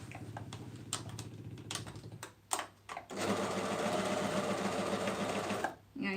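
A sewing machine stitching fabric: a few short stop-start runs of needle clatter, then a longer steady whirring, rattling run before stopping, with a voice speaking softly in places.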